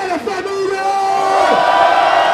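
A lively crowd at a Brazilian rap battle yells and whoops, with one loud voice holding a long shout and others joining in, the cheering swelling toward the end.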